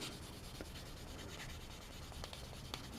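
Sandpaper rubs over a small part of a Tamiya 1/12 scale Yamaha YZR M1 '09 model kit, a faint, steady scratchy rasping with light repeated strokes, close by and quiet.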